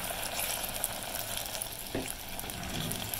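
Peanut brittle candy mixture with vanilla sizzling hot in a pan as it is stirred, a dense continuous bubbling hiss heard up close with one brief scrape midway.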